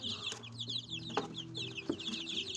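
Light Brahma chickens in a small flock keep up a steady, busy chorus of soft clucks and high chirps, with a couple of sharper calls standing out near the listener.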